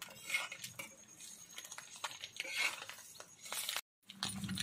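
Egg masala stirred and turned on a tawa griddle, with steady metallic scraping and clinks of a spatula on the iron pan, continuous and close, broken by a brief silent gap near the end.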